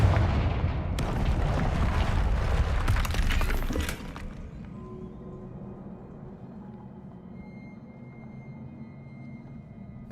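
Confringo fire-blast spell explosion in Hogwarts Legacy, a loud crackling burst with shattering debris lasting a few seconds, then cutting off to a quiet low hum.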